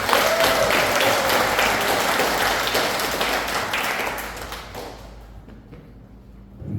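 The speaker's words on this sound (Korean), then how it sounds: "환호와 박수 한번 보내주시기 바랍니다." A crowd in a large conference hall at a Lions Clubs inauguration ceremony bursts into loud applause and cheering that gradually thins out and fades over several seconds.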